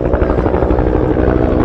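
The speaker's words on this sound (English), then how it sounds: "The Cobra is a single-engine attack helicopter developed and manufactured by Bell Helicopters" A Bell Huey Cobra single-engine attack helicopter at a tribute gathering, its rotor thumping in a rapid, loud, steady beat close by, with no voices over it.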